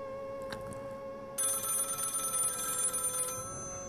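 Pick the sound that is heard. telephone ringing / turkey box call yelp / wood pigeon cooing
telephone ringing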